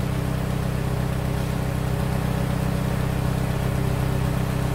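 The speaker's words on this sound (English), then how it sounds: "I'm really, really pleased with the way this little engine sounds, the way it runs" A Ford GPW engine runs steadily at idle, a continuous low mechanical drone with a regular pulsing firing rhythm, close and even throughout with no talk.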